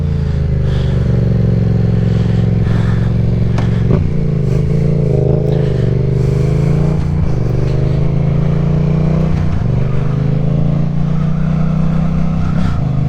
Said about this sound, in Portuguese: já estamos aqui na MT-07, primeiro treino oficial aqui da moto de stand